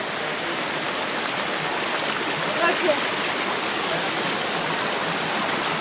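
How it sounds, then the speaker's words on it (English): Steady broadband rush of a flowing stream fills the scene from start to end, a constant wash of water with a brief splashy bump midway and a short spoken word over it. "Enjoy the sound of water."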